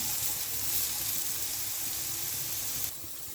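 Chopped onion sizzling and frying in a pan for a cabbage and potato samosa filling, a steady close hiss that drops quieter near the end, with no talking.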